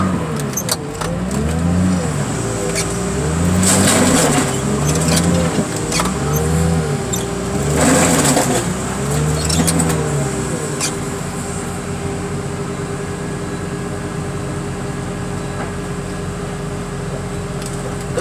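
Car crusher flattening a junk car with batteries and converters already removed: loud grinding, creaking metal and a rhythmic hydraulic pumping that winds down into a steady machine hum and rumble.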